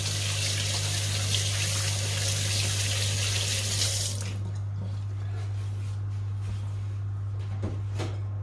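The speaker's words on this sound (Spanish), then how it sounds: "Voy a lavar un poco las manos porque si no, no voy a poder seguir." Hands being washed under a running kitchen tap, a steady close rush of water that cuts off about halfway, followed by quiet drips and small wet handling sounds.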